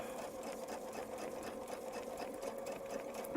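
A sewing machine stitching along a honeycomb quilting template, its rapid, even needle rhythm running steadily and fairly quietly for the whole stretch.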